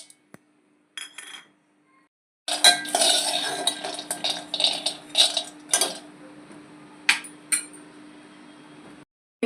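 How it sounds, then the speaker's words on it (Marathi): Dry peanuts rattling and clinking in a metal pot with no oil, a busy run of scrapes and knocks close up after a brief earlier clatter, with faint pauses between bursts. "पहिले आपण शेंगदाणे घालूया."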